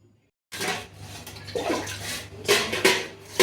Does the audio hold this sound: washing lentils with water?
yes